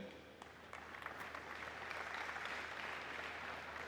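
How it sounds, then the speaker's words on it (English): Steady applause from a tech conference audience thanking event sponsors at an opening session, a dense wash of clapping heard from a distance, fairly faint and even throughout. "I'd like a round of applause for them."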